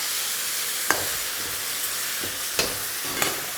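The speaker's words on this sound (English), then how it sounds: "Gravy's coming in. I want this nice and saucy." Gravy sizzling and bubbling hard in a hot wok, a steady hiss with a few sharp spatters and clatters standing out over the constant fry.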